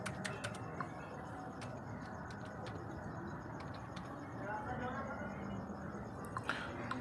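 Code is typed on a computer keyboard in quick bursts of soft clicks, close but faint, over a steady broadband hum and background noise.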